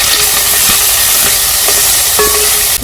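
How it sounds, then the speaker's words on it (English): Onion, ginger and garlic paste frying in oil produce a loud, dense hiss that fills the whole clip, with a few faint knocks and a brief tonal squeak near the end. "I'll fry them together to golden brown"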